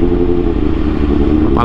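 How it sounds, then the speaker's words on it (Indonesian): Loud, close, steady throaty idle of a big carbureted motorcycle engine, an uninterrupted rumble throughout with a faint voice near the end. "cuma suara karbunya itu enak banget dengernya"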